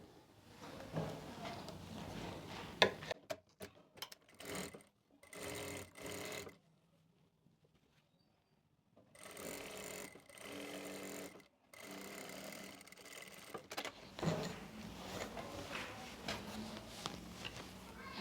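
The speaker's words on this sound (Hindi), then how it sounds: "जो हमारी ये साइडों वाली सिलाई है इसको हम लगा लेंगे दोनों तरफ से" A sewing machine stitches both side seams of a sharara in bursts of steady motor hum, stopping and restarting with short pauses and one longer silent gap, loud and close.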